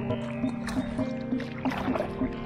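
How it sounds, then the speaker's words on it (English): Kayak paddling on the Black River in Wisconsin, with soft rhythmic paddle strokes and gentle water splashes repeating about every half second over a steady low hum. "just a nice smooth paddle"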